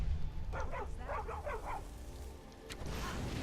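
A dog barks in the Skyrim video game, a quick run of several yips and woofs over a steady low background rumble, fairly close and clear, with no talking.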